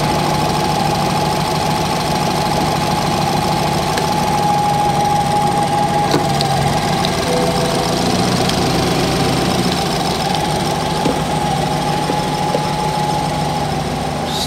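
A BMW 220i M Sport engine keeps running after a jump-start booster is disconnected, giving a steady, close mechanical idle hum with a constant whine and faint ticking.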